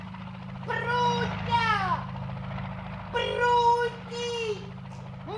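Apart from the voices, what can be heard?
helicopter flying away, radio drama sound effect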